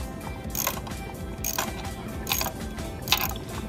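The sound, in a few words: socket wrench loosening motor bolts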